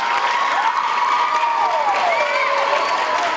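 A crowd of school students claps and cheers steadily, the noise dense and loud, with high voices and whistles rising over the applause.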